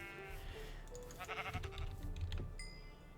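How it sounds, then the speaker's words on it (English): Sheep bleating in Minecraft (FTB Unleashed modpack), several short harmonic bleats over game background ambience, fairly soft, with no talking. "I can see one sheep. One solitary sheep."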